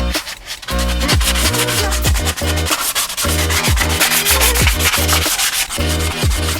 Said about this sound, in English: Now I'm just gonna get in all these crevices with some 320 grit by hand.